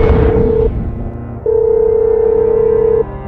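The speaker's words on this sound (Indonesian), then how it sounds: "Aku telepon dulu ya." A telephone call is placed in an Indonesian animated drama: after a short burst of noise, two steady electronic ringing tones sound alone, a brief one followed by a longer one after a gap.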